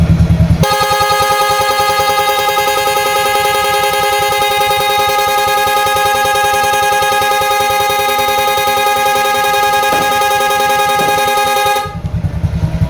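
A motorcycle's dual horn wired through an interruptor relay blares in one long, loud, steady honk that cuts off abruptly near the end, leaving engine idle.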